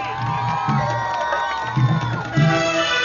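An audience at a concert in Bahria Town cheers, whoops and shouts in a continuous loud roar, with a few louder surges of cheering near the end.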